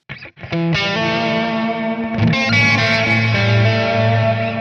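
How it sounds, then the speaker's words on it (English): A single distorted electric guitar note is struck and rings out. After a noticeable gap a long reverb swells in beneath it, with a brief second pluck and a sustained, shimmering tail. "If I bring that pre-delay up to 320 milliseconds, right? It takes some time after I strike the note for it to come in."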